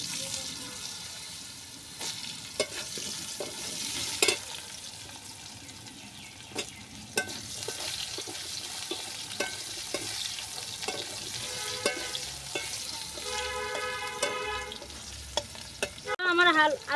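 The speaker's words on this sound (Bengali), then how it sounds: "আলুটাকে ভেজে নেব একটু লাল লাল করে" Potatoes frying in oil in a wok, seasoned with nigella seeds and bay leaves, sizzle steadily while a spatula stirs and scrapes with intermittent clacks, close and fairly loud throughout.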